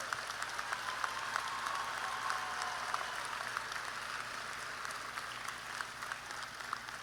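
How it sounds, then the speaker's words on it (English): An audience at a LSU Manship commencement ceremony gives sustained applause, a dense, even wash of clapping heard from a distance at fairly low level. "Give them a round of applause."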